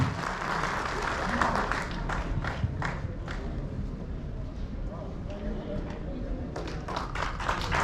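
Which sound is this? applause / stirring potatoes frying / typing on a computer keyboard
applause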